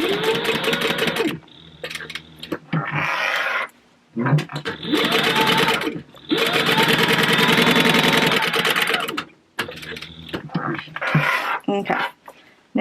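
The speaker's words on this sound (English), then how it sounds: "I'm going to back stitch, and then I'm going to go forward and around." A sewing machine back stitching, then sewing forward and around, a wallet panel: bursts of fast, loud mechanical whirring separated by short pauses, with someone talking in the gaps between runs.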